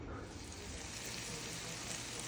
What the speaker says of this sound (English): we have our vegetables and our shrimp cooking